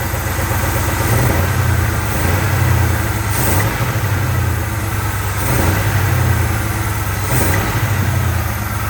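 A Chevy 409 V8 in a 1955 Chevrolet idling rough with a light rod knock and a steady misfire, lumpy rhythmic pulses repeating every couple of seconds, close and alone.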